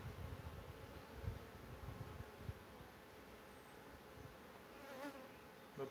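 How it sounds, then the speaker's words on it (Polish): Honeybees buzzing at an opened hive that has lost its queen, with no smoke in use: a dense, constant drone of many bees, faint and close, rising slightly near the end, with no speech. "pszczoły są trochę nerwowe, bo dymu nie mam."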